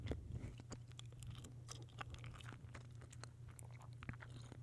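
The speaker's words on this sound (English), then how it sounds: "Just like an hour of gum chewing." Gum chewed close to the mic for ASMR: steady wet smacks and sharp crackly clicks in an irregular rhythm over a faint low hum, with no talking.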